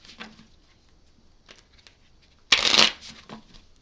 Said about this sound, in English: Give these a couple shuffles.